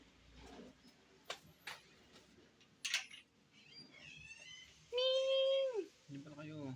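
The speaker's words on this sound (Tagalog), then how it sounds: "ngayon nahanap naman natin yung mga pusa ko" Pet cats meow indoors, one long drawn-out clear meow followed by a shorter one, amid light ticking and shuffling noises, with a person speaking nearby.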